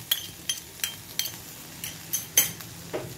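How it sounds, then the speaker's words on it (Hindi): A metal spoon stirring bell pepper sausage with oregano and spring onions in a pan, regular sharp clinks and scrapes against the pan roughly every third of a second, close and clear with no talk. "इसे अच्छे से मिक्स कर लीजिए।"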